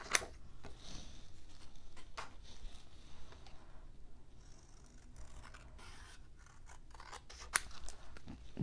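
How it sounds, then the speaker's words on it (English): Scissors cut through paper by hand, trimming close around letters for a fall greeting card; steady soft snips and rustling slide along continuously at close range, with a few sharper clicks of the blades and no talking. "I'm just going to hand cut this."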